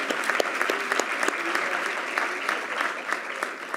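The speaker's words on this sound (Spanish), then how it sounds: "merece un aplauso de todos nosotros" Sustained applause fills the hall at an awards ceremony for judicial honors, a dense, even wash of many hands clapping at moderate distance, with a few sharper individual claps standing out.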